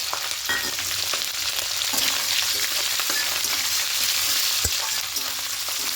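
Bay leaves, green chilies and grated coconut fry in oil with a loud, even sizzle that fills the whole stretch, with occasional light knocks of stirring and no speech.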